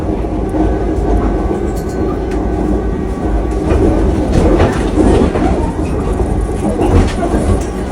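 KA Jenggala commuter train rolls along with loud rumbling, rattling carriages and rhythmic clickety-clack of wheels, the car shaking continuously throughout.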